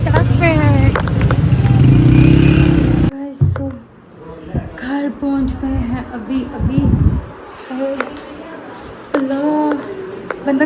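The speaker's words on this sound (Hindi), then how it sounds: "ट्रैफिक" Road traffic with motorcycles and cars, engines revving and passing nearby in repeated rising whines, loud at first then intermittent, with people talking throughout.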